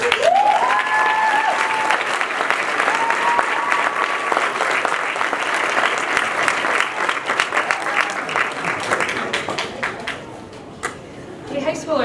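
An audience applauds and cheers for a scholarship recipient at a school awards ceremony, steady dense clapping running throughout with whoops and shouts rising over it, fading slightly near the end.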